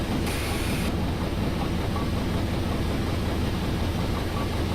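A Train Simulator locomotive engine runs at a steady, low, heavy drone with continuous rail rumble and no talking.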